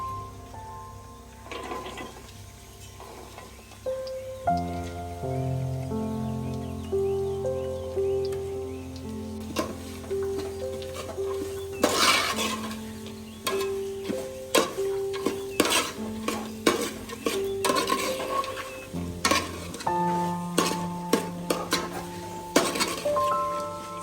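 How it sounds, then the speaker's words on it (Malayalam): Sliced onions frying in a pan with ginger, garlic and green chili for a Kerala-style chicken curry, with a steady sizzle and repeated stirring and clinking of a spoon against the pan. "5 സവാള സ്ലൈസ് ചെയ്ത് വെച്ചിട്ടുണ്ട്, അതും കൂടി നമുക്ക് ഇനി ഇതിനകത്തോട്ട് ചേർത്ത് കൊടുക്കാം"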